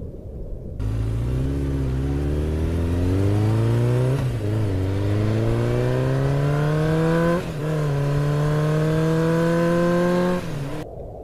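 A car engine revs up steadily through several gear changes, its pitch climbing in long rising sweeps with brief dips between shifts, loud and close with no voices.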